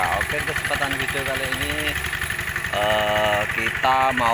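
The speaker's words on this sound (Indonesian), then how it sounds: "mereview Quick traktor Quick ya, G1000 dengan sasis yang lama, diesel pakai Kubota yang lama, 8 PK setengah, menerbas bekas jagung" An old Kubota diesel engine, about 8.5 horsepower, idles steadily on a Quick G1000 hand tractor in a field of harvested corn stalks, its rapid chugging thump running throughout beneath someone speaking close by.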